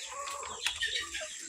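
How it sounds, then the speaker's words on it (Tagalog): Hens cluck in quick, close, chattering calls, a short busy burst of several birds on a farm, with no voices over them. "So ito na po yung mga inahin natin"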